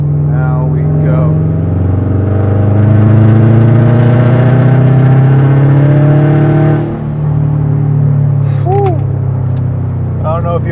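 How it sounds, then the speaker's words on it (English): A turbocharged car accelerates hard in fourth gear, its engine droning and rising loudly, with a brief dip around seven seconds as the turbo wastegate opens and closes, then the pull resumes, with a voice heard briefly. "That's that wastegate closing and opening."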